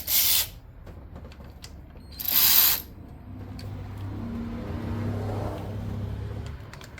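A ratchet tightens fasteners during an MSD ignition install on a 1995 Pontiac Trans Am with an LT1 engine. Two short bursts of clicking sound close by, followed by a low, steady mechanical hum.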